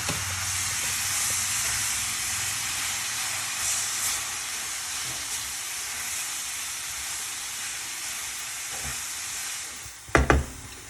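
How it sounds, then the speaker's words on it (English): Spiced mince for stuffed karela warming and being stirred in a pan, a steady soft sizzle and hiss throughout, with a few brief clattering scrapes near the end. "I'm just going to warm it through and just mix some garam masala and nardana at the end for some more flavour"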